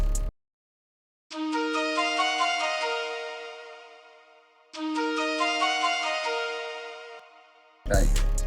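A breathy, reedy Arabic flute melody plays two similar phrases, each note sustaining and slowly fading, with a brief silence before it begins.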